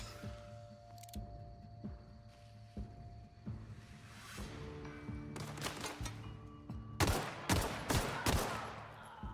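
Gunfire in the video game Outer Worlds: bursts of rapid shots that build into dense, loud volleys toward the end, over a steady game soundscape.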